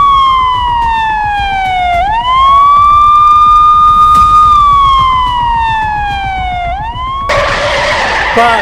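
A loud, close fire engine siren wails as the fire service rushes to a rescue, its pitch sliding down, holding, then sweeping again, before a sudden burst of harsh noise at the end.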